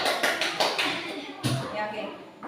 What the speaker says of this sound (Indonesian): Tepuk tangan buat Asri kelompok 1.